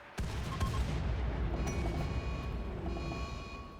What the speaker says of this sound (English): we are once again unleashing hell with our mortars